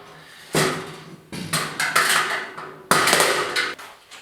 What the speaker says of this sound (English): what are you doing hammering on your screwdriver?